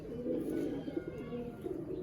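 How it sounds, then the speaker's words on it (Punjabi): A close pigeon coos in low, rolling, throaty phrases, steady and soft with slight pulsing over about two seconds. "ਬਹੁਤ ਖੂਬਸੂਰਤ ਕਬੂਤਰ ਆ"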